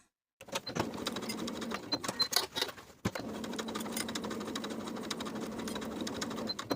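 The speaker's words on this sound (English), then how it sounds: "Sew from the notch to the bottom of the crotch curve with a 3/8 inch seam" A sewing machine basting a jeans pocket in place, running in quick stitching bursts with a brief pause midway, close and fairly quiet, no talking.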